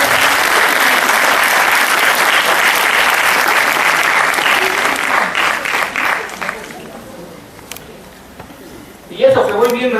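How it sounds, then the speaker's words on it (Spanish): A conference audience in a general hospital hall gives dense, sustained applause for the first several seconds, then the clapping thins and fades to near quiet before a voice begins speaking near the end. "Un aplauso para ellos"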